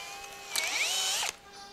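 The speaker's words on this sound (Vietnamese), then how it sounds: "Mình khoan mũi 3 ly đi." A power drill fitted with a nail in place of a bit bores in one short burst of whining, rising pitch, loud and near, with no talk.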